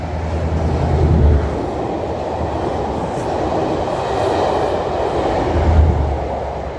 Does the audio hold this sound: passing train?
yes